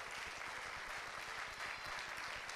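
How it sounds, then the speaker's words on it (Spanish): A church congregation applauding during a sermon, quiet steady clapping with a rhythmic low thumping beneath it, heard from some distance. "dele fuerte el aplauso al Señor"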